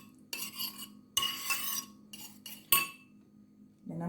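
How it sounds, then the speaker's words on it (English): A utensil scrapes and clacks against a bowl while stirring soy sauce marinade for Jamaican jerk chicken, a few close bursts of mixing separated by brief pauses, without any talk. "And I'm going to go ahead and mix that."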